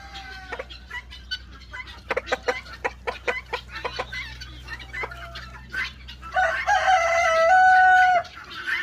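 Chickens on a farm cluck in short, scattered bursts near their coop, then a rooster lets out one long, loud crow near the end.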